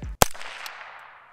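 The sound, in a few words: 22 gunshot fired through a Fleshlight on the muzzle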